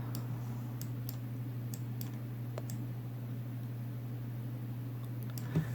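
Sparse light clicks of a computer mouse used for painting in Blender, scattered irregularly over a steady low electrical hum, faint and close.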